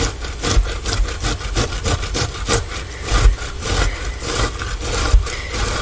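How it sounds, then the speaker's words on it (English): Tomatoes rubbed briskly against a box grater, a close, loud rasping scrape repeating in quick, steady strokes throughout. "So I just have a box grater here. I'm just going to grate away."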